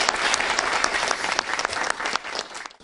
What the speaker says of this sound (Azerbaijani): Alqışlayaq zəhmət olmasa.